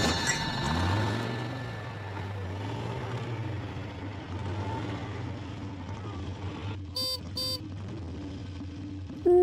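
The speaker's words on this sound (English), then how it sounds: "Truck." A truck idles with a low steady engine drone for several seconds, joined near the end by two short horn honks.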